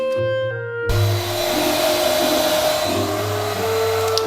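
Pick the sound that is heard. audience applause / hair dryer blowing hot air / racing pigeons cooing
hair dryer blowing hot air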